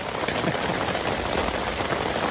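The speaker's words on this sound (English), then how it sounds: "The rain has gotten a little bit heavier." Heavy rain drums on a tent at Gilmore Lake in Desolation Wilderness, a close, dense and constant patter with no talk.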